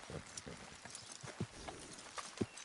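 Horse hooves clip-clop in an uneven rhythm at close range in the Red Dead Redemption 2 video game, with scattered thuds and ambient noise and no speech.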